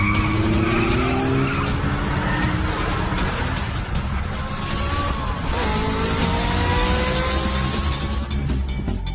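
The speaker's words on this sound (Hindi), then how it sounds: "फिर ड्रिफ्ट लेकर टर्न लो।" A car drifts through a turn with tires skidding and squealing continuously over a loud, roaring engine, sustained for several seconds.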